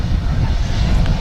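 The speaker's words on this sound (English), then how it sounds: "it was a bit of a long landing" Airliner landing at Manchester Airport, a steady low engine roar filling the whole moment at constant loudness, with no clear change in pitch.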